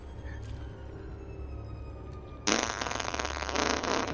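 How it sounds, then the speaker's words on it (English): A fart sound effect in the horror game Visage, breaking in suddenly halfway through as a loud, sustained rasping blast over a low background hum. "Now you hear a fart sound"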